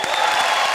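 A studio audience claps in welcome for the performers on a comedy show, a dense burst of applause that is brief and fairly loud.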